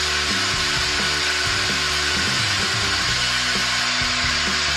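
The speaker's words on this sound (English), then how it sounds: "using a fair amount of pressure and I'm just burnishing it" A sycamore bowl spins on a wood lathe while it is burnished under firm pressure, giving a continuous loud whir with shifting rubbing tones and no voices.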